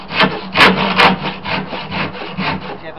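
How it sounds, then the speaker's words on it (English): Handsaw cutting through wood from an old TV unit, a close, loud run of steady back-and-forth rasping strokes in even rhythm, with no voices. "Get yourself a nice handsaw."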